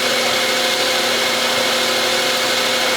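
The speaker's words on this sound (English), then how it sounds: "I'll just go ahead and screw drill it with that." A spot drill bit of jobber length bores into metal during a slow-speed carbide grinder build, giving a steady, loud, unbroken whirring drone with no pauses.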